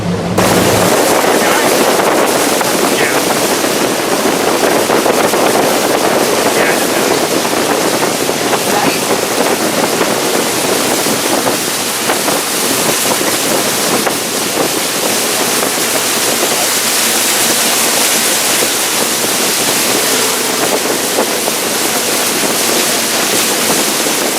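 Water gushing steadily from an old broken well under natural pressure, a loud, continuous broadband rush that holds unbroken from start to finish with a wind-like wash.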